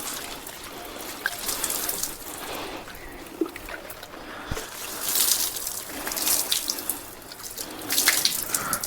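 Water splashes and gushes steadily as hibiscus plants are rinsed down to wash off mealybugs, with fluctuating spray and trickle sounds close by throughout and no talking.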